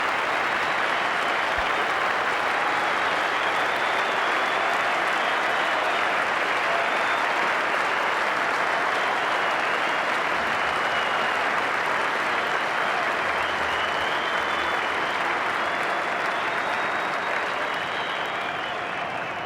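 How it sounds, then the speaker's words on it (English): A large cricket crowd at Adelaide Oval applauds and cheers Ricky Ponting's double century, a dense, continuous wash of clapping that holds steady for the whole stretch. "that terrific reception from this good crowd in at the Adelaide Oval"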